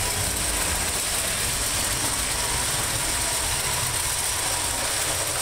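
A boat engine idles steadily while smoking after a repair, a constant, close mechanical rumble and hum with no change in speed and no voices.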